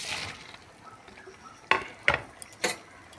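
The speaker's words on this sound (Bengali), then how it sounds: "ভেজে রাখা বড়াগুলো দিয়ে দিলাম" Fried ridge gourd and potato kofta fritters are dropped into simmering curry and stirred, giving a soft bubbling bed broken by a few sharp spoon-on-pan clinks and scrapes near the end, close and without talk.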